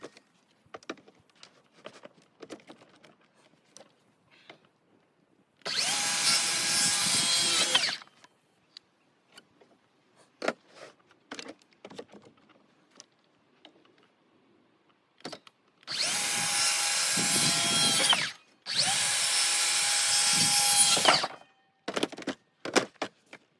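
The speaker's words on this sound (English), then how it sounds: "I just wrapped up pre-cutting all of my rafter pieces here" A power saw cuts wood rafter pieces for an old homestead shed in three loud bursts, one early and two back to back near the end. Scattered knocks and handling clatter fill the gaps between cuts.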